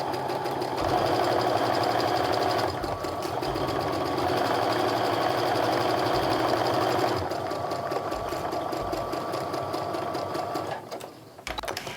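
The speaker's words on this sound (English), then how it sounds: "I'm going to go ahead and sew up and down the sides of the block" A sewing machine stitches up and down the sides of a quilt block with a 1/4 inch seam, running in steady rapid bursts of mechanical whirring with brief pauses between runs.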